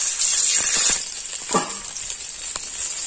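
Ginger paste hits hot mustard oil in a wok, giving a steady bright sizzle with a louder spattering burst midway, close and continuous with no talking.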